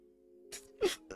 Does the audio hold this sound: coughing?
yes